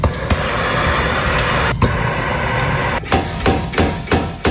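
A torch-heated part on a Mazda RX7 is struck with a hammer: about seven sharp metallic blows, spaced irregularly and then quicker toward the end, ringing over a steady background hiss.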